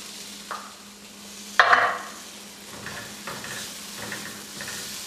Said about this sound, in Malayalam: ഇനി നമുക്ക് അരിഞ്ഞു വെച്ചിരിക്കുന്ന തക്കാളി ചേർക്കാം.